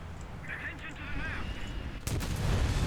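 Artillery fire from a VIDAR self-propelled gun in the War Thunder video game: a loud, sharp broadband blast near the two-second mark, followed by rumbling background battle noise.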